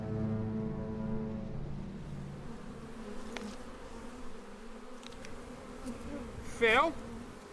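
Honey bees buzzing around a beehive, a dense steady drone close by, with a brief whistle-like sweep near the end and a faint voice in the background.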